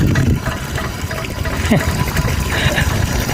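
Water flowing out of a pipe, a continuous splashing rush with trickling detail, heard up close and steady throughout.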